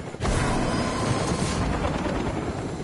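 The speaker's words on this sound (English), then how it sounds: "Whole squad's in the chopper." A helicopter in the Fortnite video game roars with a steady, loud broadband whir and rotor rumble that starts abruptly and holds throughout, close and dominant.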